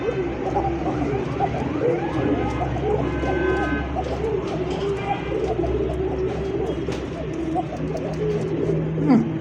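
A male pigeon coos in low, repeated throaty calls under a steady background hum, with someone talking over them.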